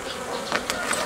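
Honey bees inside a hive fitted with a divider board give off a steady, dense hum, close and continuous, with no voices.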